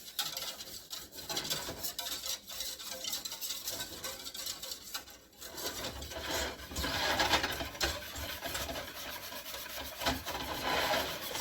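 An egg yolk mixture is stirred in a pot on the stove for a chocolate meringue pie, giving a continuous close scraping and rubbing of utensil against the pot, steady with slight swells and no talk.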